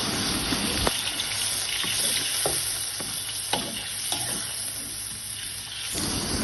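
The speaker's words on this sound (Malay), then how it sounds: "Masukkan ayam yang kita dah goreng, kita kacau." Fried chicken pieces stirred in a pan, sizzling and frying with occasional scraping knocks of the spatula and a watery bubbling hiss, close up and with no talk.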